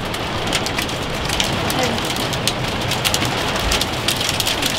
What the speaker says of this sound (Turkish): Şu anda fırtına üstümüzden geçiyor bu.